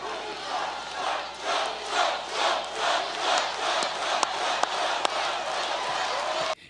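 A large political rally crowd chants a name in a loud, regular rhythm of repeated pulses, with cheering and some claps, lasting several seconds before cutting off.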